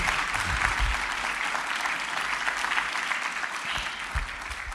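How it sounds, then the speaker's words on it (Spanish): A crowd claps continuously, a dense, lively round of applause that holds steady for several seconds. "Denle ese aplauso."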